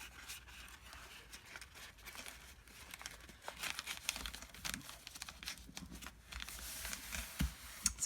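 Paper crinkles and rustles in soft, irregular handling as a tea bag is tucked into a folded origami Christmas nativity ornament, close and quiet throughout.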